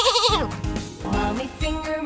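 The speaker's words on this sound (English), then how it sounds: "Sheep." Sheep bleating in a children's nursery song, a wavering, voiced cry at the start followed by musical tones, loud and close.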